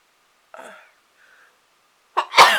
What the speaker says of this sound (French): vais éternuer.